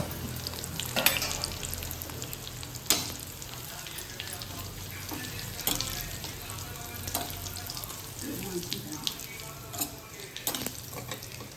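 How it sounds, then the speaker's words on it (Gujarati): Mustard seeds fry in hot oil for a Gujarati papad curry, a steady sizzle broken by scattered sharp pops and a few clinks of a spoon against the pan. "રાઈ નો વઘાર કરવાનો એટલે રાઈ ગરમ તેલ થાય એટલે રાઈ નાખીશ"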